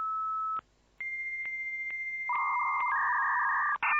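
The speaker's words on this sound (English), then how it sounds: "First I gotta dial the number." Telephone keypad tones sound as a number is dialed: a steady tone, a brief gap, short repeated beeps, then longer dual-tone button presses, clear and close with no talking.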